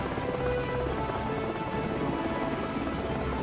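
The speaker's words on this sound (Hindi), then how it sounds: "अगले दिन लंबू, छोटू, जेसीबी और सुरेश हेलीकॉप्टर से उस जगह को ढूंढ लेते हैं" A helicopter in a cartoon flies past with a steady, loud droning rotor hum that continues unbroken throughout, with no talking.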